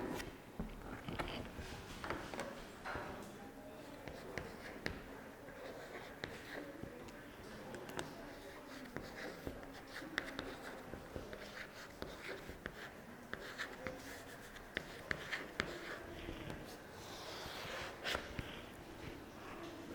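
Chalk drawing lines on a school blackboard during a seventh-grade maths lesson, faint scratchy strokes and taps recurring irregularly, with light breathing and soft handling noises in a quiet classroom.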